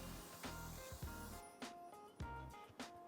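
Hair setting spray hisses from a can along the scalp line in several short, quiet bursts separated by brief pauses.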